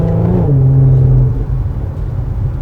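A 3.7L Infiniti Q50 engine pulling at light throttle, a loud, close, low droning hum with a strong steady tone that fades into a rougher rumble after a second or so.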